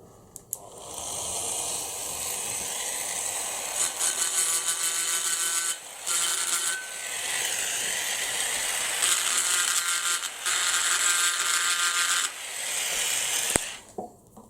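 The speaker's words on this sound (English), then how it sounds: "So again, we'll use the Dremel." A Dremel rotary tool grinds through the plastic tabs holding a Hot Wheels Elite die-cast model car together, whining close and loud in long bursts with brief pauses between cuts.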